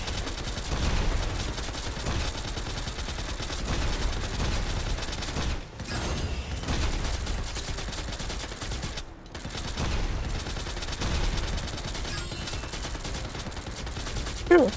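Rapid gunfire in the shooter video game Girls Frontline 2: Exilium, a dense continuous crackle of shots with mechanical clatter, steady and loud almost throughout with only brief pauses.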